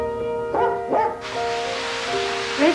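A dog gives two or three short, close barks and yelps over a steady electronic hum, then a broad hiss of running shower water sets in.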